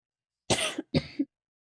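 Two quick, harsh coughing bursts in a row, close and fairly loud, each ending with a short throaty rasp, then silence.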